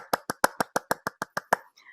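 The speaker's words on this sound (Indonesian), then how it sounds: "Tepuk tangan semua." A group of children clap in unison at a Sunday kids' church service, about ten sharp, evenly spaced claps in quick succession, close and loud, followed by a faint trailing sound.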